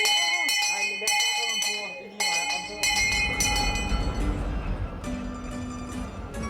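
Bright metallic bell dings ring out several times, then the heavy low rumble of the Kuranda Scenic Railway train to Cairns, Australia, takes over and rolls on steadily.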